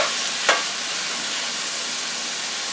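Vegetables being stirred in oil in a pan, ahead of oven-baked rice, a steady soft sizzle with one sharp utensil scrape early on, no talking.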